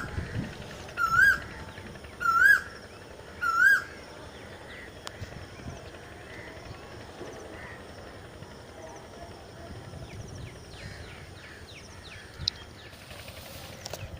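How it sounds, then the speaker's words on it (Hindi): An Asian koel perched in a tree in a village orchard gives three clear rising whistled calls in quick succession, then quieter distant bird sounds continue over a steady low outdoor rumble. "कोयल बैठी हुई है।"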